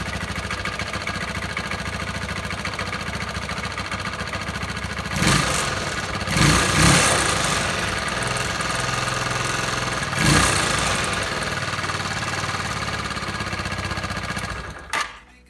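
A Tekken 2 250 motorcycle engine runs after a throttle cable fix, idling steadily and loud up close, with several short revs blipping over the idle before it cuts off at the end.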